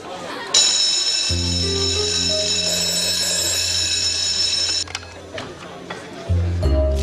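A loud, high-pitched alarm bell rings continuously for several seconds over a low hum, then stops, followed by faint voices.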